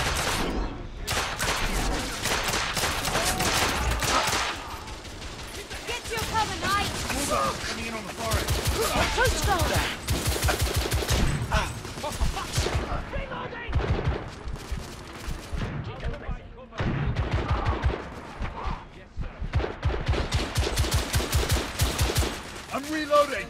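Sustained cover gunfire from a firefight in the video game The Order 1886, with dense rapid bursts and heavy fusillades running nearly throughout, loud and close, briefly easing in a few gaps, with shouted voices mixed in.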